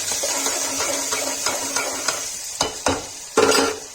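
Garlic and green chillies sizzle in a frying pan as a spoon stirs them, a steady hiss broken by several scraping knocks that grow louder near the end.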